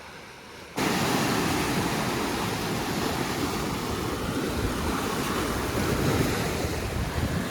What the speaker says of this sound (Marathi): हा एवढं उंच लाटा उडत होत्या.